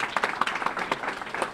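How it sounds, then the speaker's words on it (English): Audience applause at a Hispanic Heritage celebration gathering, a short burst of dense clapping from a crowd, steady and fairly close, with no talk over it. "Give him another round of applause."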